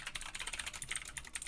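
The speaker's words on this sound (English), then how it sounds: "But I'm still going to keep typing." Rapid typing on a computer keyboard while Python code is entered, a steady run of close, light key clicks with no talking.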